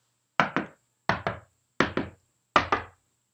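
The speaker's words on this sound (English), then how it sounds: "you would walk around your room and knock on different parts of the wall" Knuckles knock on different parts of a room wall, four evenly spaced double raps with short dull thuds and brief decay, close and alone.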